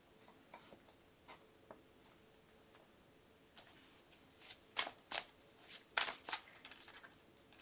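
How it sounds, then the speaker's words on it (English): Tarot cards shuffled by hand, a series of crisp riffling bursts growing denser and louder after a quiet start with scattered light taps, close by and with no talk over it. "Give a good shuffle"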